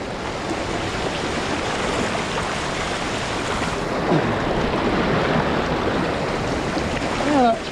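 Potoroo or Ellenborough waterfall in flood, a loud continuous roar of rushing water with gusty wind buffeting the microphone, and a brief voice near the end.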